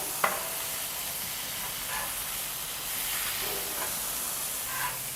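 Burgers with chimichurri butter sizzle on the grill just after being flipped, a steady close hiss with a few soft pops and clicks, no talk.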